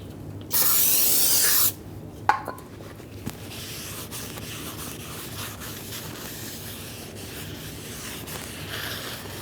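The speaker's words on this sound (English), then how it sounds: "Some parts cleaner and a clean rag will do well for this." Parts cleaner sprays in one loud hissing burst onto a brake rotor from a 2015-2020 Ford F-150, followed by a few clicks and then a long, quiet, steady rubbing as a rag wipes the rotor.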